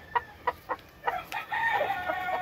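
An aggressive American game chicken rooster, one with a hurt toe and wing, sounds off in a pen on a hot summer day: a few sharp separate calls, then a longer drawn-out crowing note, close and clear.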